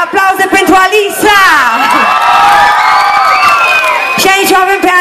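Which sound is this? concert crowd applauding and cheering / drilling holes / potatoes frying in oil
concert crowd applauding and cheering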